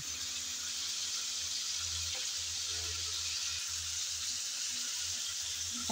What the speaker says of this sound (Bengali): একটা সাইড ভাজা হয়ে গেল, আমি এখন আরেকটা সাইড উল্টিয়ে দিচ্ছি।